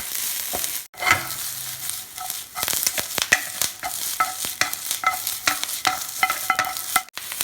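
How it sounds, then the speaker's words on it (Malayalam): Curry leaves and green chillies roasting in ginger garlic paste in a hot pan, a steady close sizzle and crackle with repeated sharp scrapes and clinks of a stirring spoon throughout. "അതിലേക്ക് നമുക്ക് കർലീവ്സും കുറച്ച് ഗ്രീൻ ചില്ലീസും ഇട്ടൊന്ന് റോസ്റ്റ് ചെയ്തെടുക്കാം ലൈറ്റായിട്ട്"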